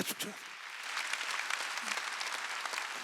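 Congregation applause during a Sunday church sermon, a full steady round of many hands clapping at moderate distance, following a brief spoken word at the start.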